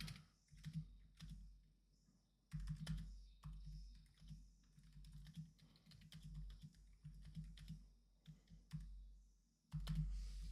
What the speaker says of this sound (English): So I'm just typing this all out for you.